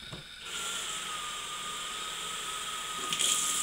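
Steady stream of cold water running into a container holding vinegar, a continuous even rush that stays near and fairly loud throughout, brightening slightly toward the end.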